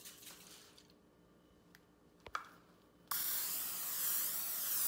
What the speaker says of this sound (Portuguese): Eu vou botar um pouquinho do spray de oliva.